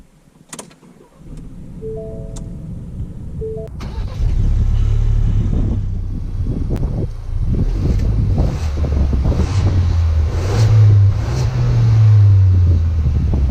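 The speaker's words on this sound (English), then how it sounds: "let's take the new Ranger out just to see how it drives" A 2019 Ford Ranger pickup truck engine starts up and drives off, a steady loud rumble rising and shifting as it accelerates, with wind buffeting the microphone.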